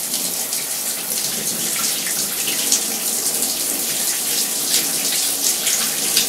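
Shower water runs in a steady, hissing stream, loud and continuous throughout with no talking.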